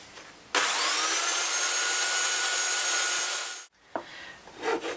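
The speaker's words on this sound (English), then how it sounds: "I've just been filing around this and just refining the hand a little bit, just with a couple of files, just to smooth it out" A hand file rasps across a wooden prop machete handle in one long, loud, close stroke lasting about three seconds, followed by softer handling scrapes.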